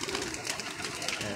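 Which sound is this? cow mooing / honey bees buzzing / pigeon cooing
pigeon cooing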